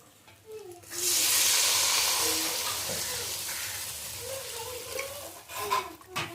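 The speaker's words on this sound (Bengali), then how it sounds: "মশলার মধ্যে বেগুনগুলো ভালো করে কষিয়ে নিয়েছি" Fried eggplant being stirred into a spice paste in a pan: a close, hissing sizzle that swells and then eases, with utensils scraping and clinking against the pan and a faint voice in the background.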